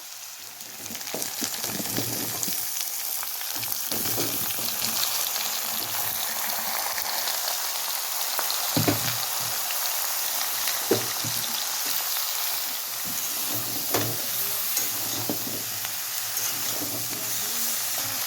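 Steady sizzling of vegetables frying in hot mustard oil with ginger, a continuous hiss with occasional soft scrapes and pops, close and moderately loud, no voices.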